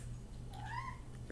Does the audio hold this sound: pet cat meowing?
yes